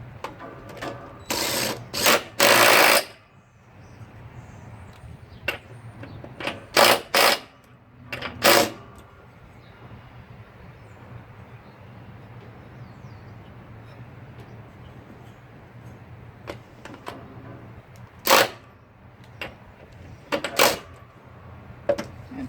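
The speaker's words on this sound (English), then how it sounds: "Just going to use this small little DeWalt. It maxes out at about roughly 100 foot-pounds." A small DeWalt impact wrench tightening a blade spindle on a Bobcat mower fires in several short, loud rattling bursts separated by pauses, over a steady low engine-like hum.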